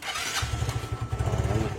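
An old motorcycle engine, stored for a long time, sputters as it is started, giving a rough, uneven low chugging that catches and pulses close by for a moment without settling into a steady idle.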